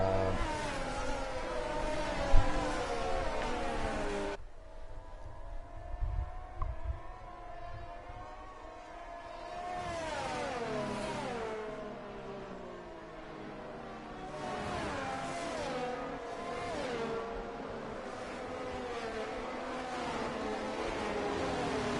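Race cars revving together on a wet track at the start of a console racing game round in France, all on intermediate tyres, a continuous engine drone rising and falling with no talk.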